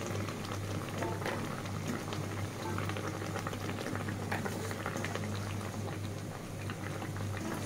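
New potatoes and flat beans sizzling and bubbling with fish in a pan, a steady close hiss of boiling and frying that runs on without a break and with no talking.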